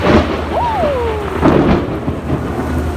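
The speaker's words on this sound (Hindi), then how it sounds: "इतनी तेज़ लाइटनिंग वाली बारिश स्टार्ट हो गई है" Loud rolling thunder rumbles over a steady wash of heavy rain, with a few sharper crackles rising and fading across the stretch.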